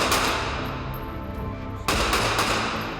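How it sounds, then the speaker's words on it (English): Blank rounds fired during an active shooter drill, a dense sustained volley of rapid shots that eases slightly, then surges again in a second loud burst. "we did it with blank rounds"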